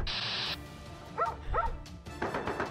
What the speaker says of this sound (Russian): Что по ней передается-то вообще? Лай какой-то.